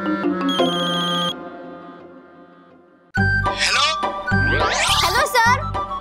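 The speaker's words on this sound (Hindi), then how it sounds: "फोन उठाइए" A telephone rings with a melodic electronic ringtone, first a chiming phrase that fades, then a louder, busier tune with sweeping tones returning in repeated bursts.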